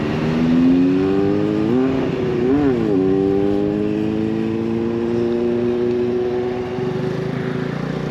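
A Honda Navi small motorcycle is ridden along a park road near Louisville, its engine droning loudly with rising and falling pitch as the rider shifts and changes speed, wind noise underneath and no talking.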